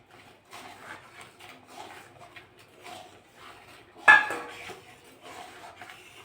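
A spoon stirs milk powder into heating milk in a pan, soft scraping and clinking against the metal, quiet and irregular, with one sharper clack near the end.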